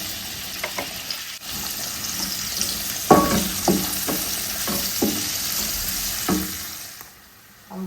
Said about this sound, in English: Let's go ahead and add our chopped onions and some